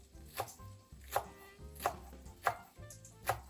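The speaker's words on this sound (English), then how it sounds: "we're going to slice the green onions" Knife chopping green onions on a cutting board while bacon fries for a Boudin king cake, with about five sharp, evenly spaced cuts ringing out close and clear over a low kitchen hum.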